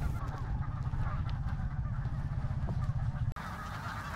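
Geese being rounded up into an enclosure for ringing on Wrangel Island in the Arctic honk loudly and continuously as a close, clamorous flock, with a voice speaking faintly underneath.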